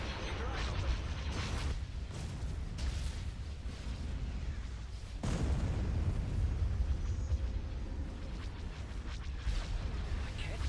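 A space battle in Star Wars: Thrawn's Revenge fills the air with dense rumbling explosions and booms, one sharp blast standing out midway, under a continuous roar, with speech faintly mixed in.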